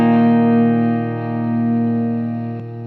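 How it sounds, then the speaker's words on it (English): A single sustained electric guitar note through a pedalboard compressor switched off and on, ringing steadily with a gentle level dip and swell as it decays, with a faint switch click near the end; close and loud. "switch the compressor on and off so you can hear it bumping the signal level up and down as the note trails off"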